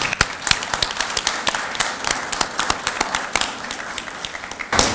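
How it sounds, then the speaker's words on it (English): An audience at a leadership academy graduation gives the graduating class a steady round of applause, with dense, even clapping and a few sharper claps standing out over about five seconds. "Let's give them another round of applause."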